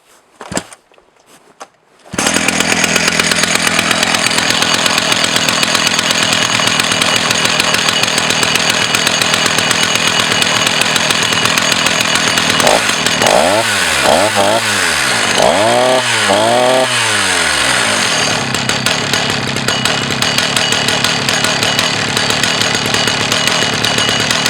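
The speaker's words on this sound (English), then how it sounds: "First time I use this chainsaw, and it impressed me and worked very good." A Husqvarna chainsaw, used for the first time, starts after a couple of seconds and roars loudly and steadily, revving up and down several times in the middle before settling back.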